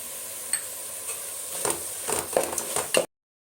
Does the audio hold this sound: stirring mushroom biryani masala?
yes